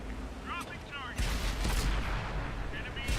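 Tank cannon shots traded in World of Tanks during a KV-1 battle on Westfield: a loud booming blast rolls out and rumbles on, preceded by brief voice-like tones and followed by further explosive noise.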